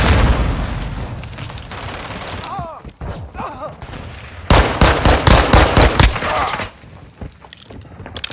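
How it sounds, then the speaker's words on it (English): A grenade blast followed by rapid automatic gunfire in Call of Duty Modern Warfare 2 multiplayer, loud and close, with a dense run of shots after a brief lull and a voice briefly heard. "Grenade out!"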